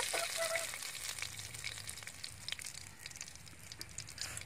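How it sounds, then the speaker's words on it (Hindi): Fish deep frying in hot oil, a steady broadband sizzle and crackle with scattered pops, close and moderately loud, continuous throughout with no talking. "देखिए पूरे अच्छे तरीके से सब तरफ से ये डीप फ्राई हो गए हैं"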